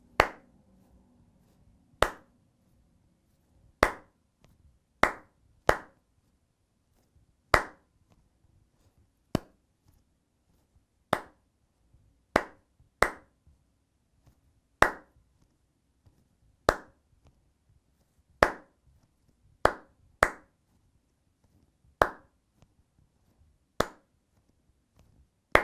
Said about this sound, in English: let's both do the clap part, just so we know how it goes